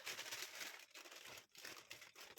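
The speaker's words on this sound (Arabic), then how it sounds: "سأفتح الكيس" A bag being opened gives a run of close, crisp crinkling and rustling that comes in short bursts with brief pauses, heard alone and fairly quiet.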